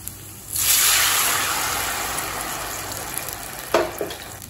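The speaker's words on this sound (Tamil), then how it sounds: "சின்ன நெல்லிக்காய் அளவு புளியை 1 கப் தண்ணியில் கரைச்சி சேர்த்துக்கலாம்" Tamarind dissolved in a cup of water is poured into a hot pan of sizzling small onions for Chidambaram brinjal gothsu, setting off a sudden loud hiss that slowly eases, with a couple of light clatters near the end.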